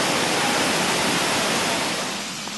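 Rain in a humid rainforest hisses as a dense, even wash of noise, loud and close, easing slightly toward the end, with no voices.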